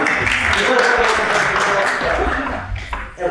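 Steady applause from a crowd at a public safety symposium, a dense wash of clapping that holds for a few seconds before thinning out briefly near the end.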